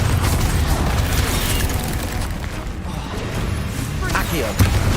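A Confringo blasting spell explodes in the video game Hogwarts Legacy. A dense, loud rumble of booms and crashing debris runs throughout, with a voice speaking over the din.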